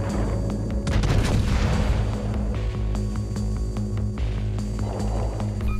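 In World of Warships Legends, the tier 5 battleship Warspite fires its heavy naval guns at the Doria. Several booming shots and sharp blasts sound over a steady low rumble of ship and ocean noise.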